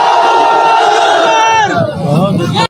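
A large crowd at a political gathering shouts the takbir slogan in unison, a loud, sustained mass chant of voices that swells and then cuts off abruptly.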